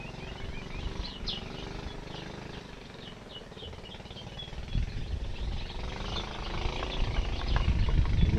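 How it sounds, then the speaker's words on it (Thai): Birds chirp in short, scattered calls over a steady low boat engine hum idling nearby on the water near Ko Yo and Ko Wiang islands, Chumphon, Thailand, the rumble growing louder toward the end. "เสียงนก"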